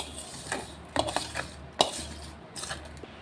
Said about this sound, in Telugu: ఇదిగోండి పోపు అయితే వేసుకుని అంతా కలిపేస్తున్నా